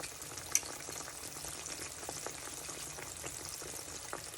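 Green tomatoes fry in hot oil with a steady, soft sizzle and crackle, faint and continuous throughout with a single sharp pop near the start and no voices.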